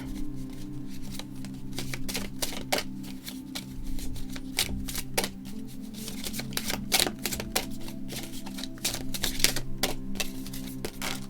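Tarot cards, a stack of about 20, riffle and shuffle with rapid, crisp clicking taps up close, continuing steadily under a faint background hum.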